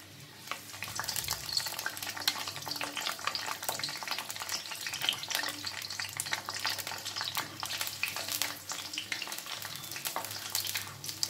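Green chilies frying with garlic in a pan over medium heat for a green chili and tomato dish, an even close sizzle with frequent crisp stirring scrapes and taps throughout.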